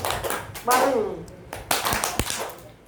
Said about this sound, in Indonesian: Ininya tepuknya keras